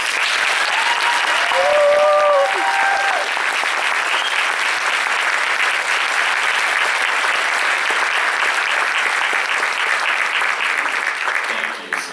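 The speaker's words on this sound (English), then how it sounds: "Please give them all a round of applause." Sustained applause from an audience at a school Christmas band concert, steady clapping filling the room for several seconds before tapering off at the end, with a few faint voices underneath.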